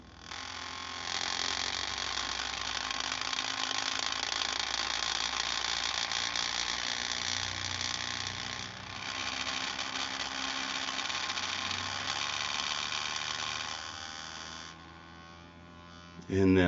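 A Skullcandy Crusher headphone's bass driver buzzes and rattles against its baffle plate near 60 Hz, a loud, steady mechanical vibration that dips briefly midway and fades near the end, with a thump at the close.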